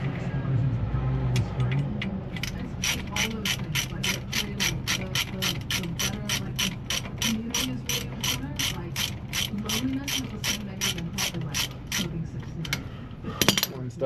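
Ratchet wrench clicks in a long, fast, even series during car maintenance, close and sharp over low mechanical rumble, with a brief voice near the start.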